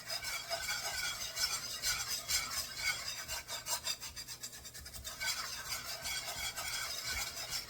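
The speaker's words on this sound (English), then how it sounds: "You got it on high heat, but you gotta keep stirring it." Roux is stirred steadily in a pot over high heat, a continuous scraping, rasping stir against the pan with a faint bubbling sizzle underneath, close and even throughout, no voices.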